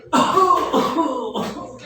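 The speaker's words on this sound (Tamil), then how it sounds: "ஏய் என்னப்பா இப்படி இருமுற டாக்டர்" A person coughs in a comedy sketch set at a doctor's examination, a short burst of close, harsh coughs repeating in quick succession.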